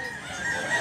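A gamefowl rooster crows in one steady, close call that runs through the short moment, with a bright strained tone and no talk over it.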